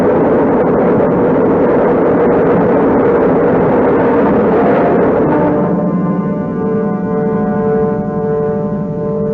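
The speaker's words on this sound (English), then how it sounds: "We have ignition. All engines are running." Rocket engines roaring at liftoff as a radio drama sound effect: a loud, dense, continuous rumble that later narrows into a steadier droning tone with a clear pitch.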